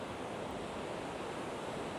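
Rough sea waves at My An Beach in Da Nang, a steady, soft wash of surf at a distance with faint wind noise, constant and even throughout.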